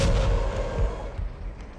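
Explosions and artillery-like booms from the video game ARMA: Resistance, a series of heavy, rumbling blasts rolling one after another, loud at first and then trailing off under continuing low rumble.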